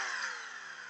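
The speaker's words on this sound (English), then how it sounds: "Now let's start the engine." A simulated car engine in automotive training software hums steadily with a buzzy, harmonic drone, heard alone for under a second at moderate level.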